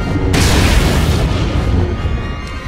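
A heavy explosion on the foundry level of Star Wars: The Old Republic, from overloaded generators, booms out loud and sudden, then leaves a long rumbling decay.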